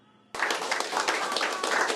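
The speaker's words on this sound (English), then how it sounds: "subdued supporters clap as their freshly defeated candidate, Kim Moon-soo, makes his own stage appearance" Subdued supporters of defeated candidate Kim Moon-soo break into applause at the party headquarters, steady close clapping that starts abruptly and carries on evenly to the end.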